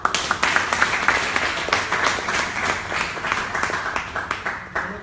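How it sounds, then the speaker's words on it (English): An audience at an event applauds together, a dense, steady wash of hand claps that runs loud and unbroken for several seconds, with no speech over it. "As we clap our hands for my mom"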